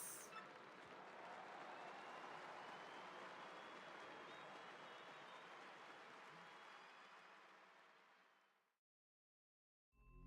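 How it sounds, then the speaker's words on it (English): Crowd cheering and applause from Paper Mario: The Thousand-Year Door remake, a steady dense roar of clapping and cheers that holds for several seconds, then fades out and cuts to near silence. "So let's have a cheer for the Great Gonzalez"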